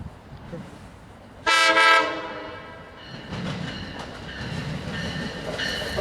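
A train passes through a station and sounds a loud, brief horn blast, followed by the rumble and clatter of cars rolling by at moderate distance.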